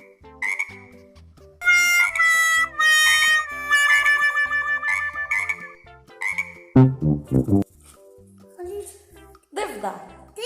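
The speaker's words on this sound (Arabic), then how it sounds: "ضفدع." Frog croaking sounds come in bursts during a playful animal-sounds guessing challenge, mixed with bright tonal calls and voices, including a short run of loud, rapid croaks near the middle.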